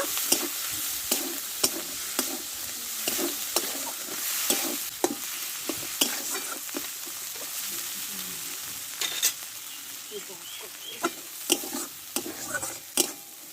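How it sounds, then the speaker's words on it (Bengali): Spice paste with tomato, salt and turmeric sautéing in a pan, a continuous sizzle broken by frequent sharp scrapes and taps of a spatula against the metal, close and without speech. "এই মশলাটা ভালো করে কষে নিব"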